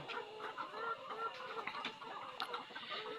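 Hens cluck at a layer poultry farm built over a pond, with overlapping soft clucks and chatter from a flock, fairly faint and continuous with occasional sharper calls.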